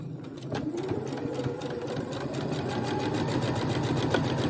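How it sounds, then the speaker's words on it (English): A sewing machine runs steadily while stitching a fabric face mask with a short 2.5 stitch length and a brief backstitch, giving a close, continuous mechanical whir with a rapid needle rhythm and no talk. "So I'm going to start, and I'm going to back stitch a little bit."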